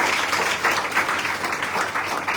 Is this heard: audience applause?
yes